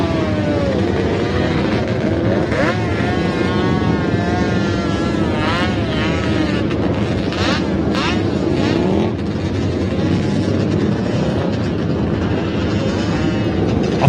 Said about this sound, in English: You can hear that four-cylinder two-stroke firing up right now